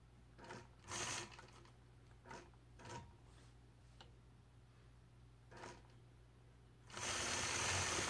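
A sewing machine machine-quilts a quilt block, soft scattered clicks and short stitches first, then a louder continuous run of stitching at the end.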